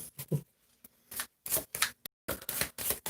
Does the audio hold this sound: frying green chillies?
no